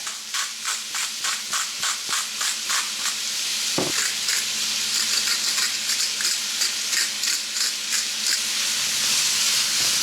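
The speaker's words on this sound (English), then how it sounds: "We're going to brown half a pound of ground beef." Half a pound of ground beef seasoned with salt and pepper browns in a pan, giving a steady close sizzle with rhythmic scraping and stirring strokes throughout and a brief clunk partway through.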